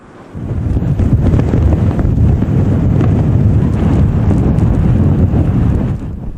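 Typhoon winds batter Japan, roaring as a loud, continuous buffeting rush against the microphone that starts abruptly and then holds steady throughout.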